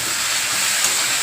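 Spices sauté in oil in a pan, making a brief, dense and even hiss of sizzling, heard up close with no voices.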